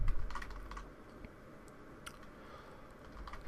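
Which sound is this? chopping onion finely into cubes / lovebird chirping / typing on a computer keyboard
typing on a computer keyboard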